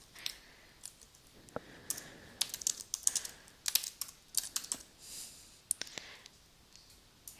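Typing on a computer keyboard while entering a field name in Microsoft Access: quick, close, uneven bursts of key clicks, with occasional louder taps, and no speech.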